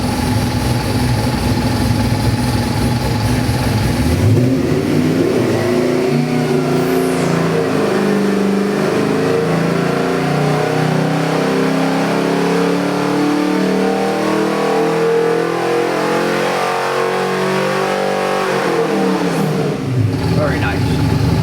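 A 427W crate V8 from a 1987 Mustang running on a dyno on a damp morning, starting up, revving a little higher and then settling into a steady idle. The engine is loud and close, with talk over it.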